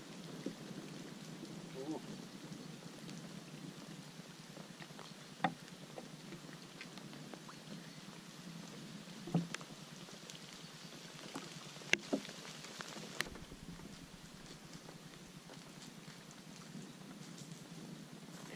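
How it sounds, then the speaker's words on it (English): Steady rain patters at a lake during carp fishing, a faint continuous hiss with occasional soft knocks and low rumbles of thunder, no talking. "Hear that thunder?"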